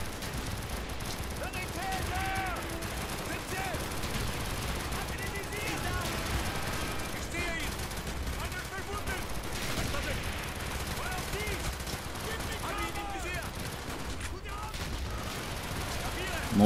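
PPSH submachine gun fire in Call of Duty Black Ops rattles through a dense, continuous battle din of overlapping gunfire and explosions, with voices mixed in throughout.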